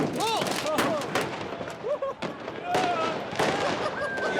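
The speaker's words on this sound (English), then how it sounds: "Every kid above the age of 5 seems to have been issued a lighter and a fistful of fireworks." Fireworks set off by crowds of kids in a public square in Libya: dense, loud crackling bangs and pops with whistling rockets rising and falling, while voices talk and shout over the din.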